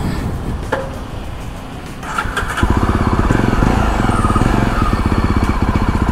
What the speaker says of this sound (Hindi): तो चलाते हैं जावा बॉबर 42।